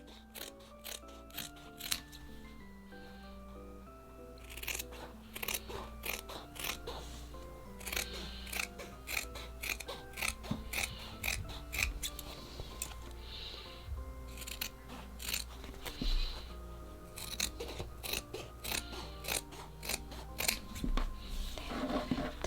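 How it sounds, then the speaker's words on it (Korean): Scissors snipping along the dotted lines of a paper kit's border, a run of crisp, close cuts in irregular bursts over a low background hum. "처음에 테두리, 필요 없는 테두리 부분부터 먼저 잘라주세요"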